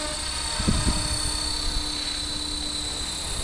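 A Blade Fusion 360 RC helicopter flies nearby with a steady high-pitched rotor and motor whine and buzz, and a few soft thumps early on.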